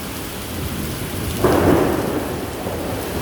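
Heavy rain in New York hisses steadily, then a loud, deep thunder rumble breaks in about halfway through and rolls on before fading back under the constant downpour, with no talking.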